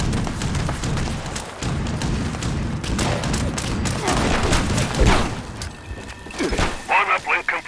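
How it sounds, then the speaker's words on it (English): Enemy gunfire crackles in the video game Fallout 76, with repeated shots, thumps and bursts layered over a dense battle din while a person talks through much of it. "Oh no, stop shooting me."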